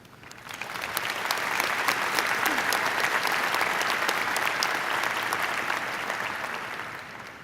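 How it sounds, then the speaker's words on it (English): A large commencement crowd at a Virginia Tech graduate ceremony breaks into applause that swells within a second, holds steady and loud for several seconds, then begins to taper. "please join me in applause to thank the family, friends, faculty, and administrators who helped us along the way"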